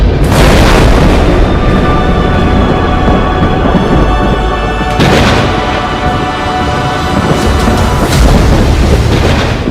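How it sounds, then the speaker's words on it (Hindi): Dramatized thunder and lightning strikes from the sky roll as loud, sustained booming rumbles, with sharper cracks breaking through twice and the rumble continuing without pause. "आसमान से बिजली गिरती है"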